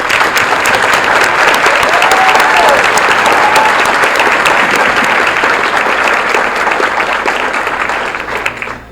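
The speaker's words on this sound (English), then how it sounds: "May we honor these people with a round of applause" An audience at a college honors recognition banquet breaks into steady, dense applause that holds for several seconds, then trails off at the end.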